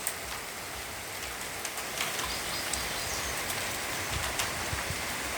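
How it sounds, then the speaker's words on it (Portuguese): Heavy rain pouring down on a forest, a constant broad hiss with sharp droplet ticks and splashes scattered throughout and a faint bird note in the background, no voices. "a chuva tá forte aqui, tá querendo molhar tudo"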